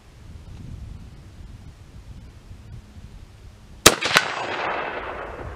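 Single sharp crack of a vintage Winchester rifle fired at a target outdoors, followed by a quick second report or echo and a fading rumble, after several seconds of quiet wind.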